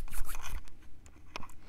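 Oracle cards being cut, with a quick papery shuffle and riffle up close, then a few light scrapes and taps as the deck settles, no voice.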